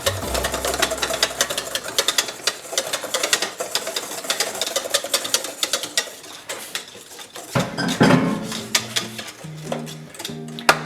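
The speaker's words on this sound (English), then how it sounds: "I'm going to whisk this into the egg mixture" Just-boiled liquid being whisked into an egg mixture for a dessert, the whisk clicking and scraping rapidly against a bowl in a dense, steady rhythm, close and fairly loud, with a few heavier clanks near the end.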